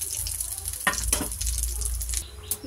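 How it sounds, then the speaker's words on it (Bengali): Whole cumin seeds sizzle in hot oil in a kadai, a steady close frying hiss with a couple of sharper crackles and stirring scrapes, no talk over it. "ফোড়নে দিলাম একটু গোটা জিরে।"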